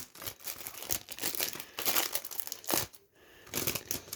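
Plastic wrapping crinkles and rustles in irregular bursts as a vinyl record package is opened, quiet and close, with a brief pause near the end.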